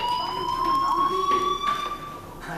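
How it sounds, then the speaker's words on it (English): A school fire alarm in the video game Life Is Strange rings with a steady electronic tone, sounding continuously at moderate loudness with no voices. "do you hear that fire alarm?"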